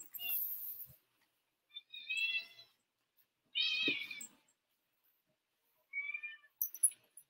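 A cat perched high on a cat tree meows four or five times, close and clear, each cry short and separated by quiet pauses.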